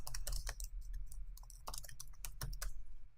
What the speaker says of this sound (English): If you want to input your own custom text, you can do so by selecting the custom text option. Now you can type in anything you want.